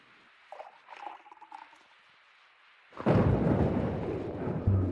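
Heavy rain pours down in an animated drama scene, arriving suddenly partway through after a quiet stretch of faint sounds and becoming a loud, dense, steady wash of patter.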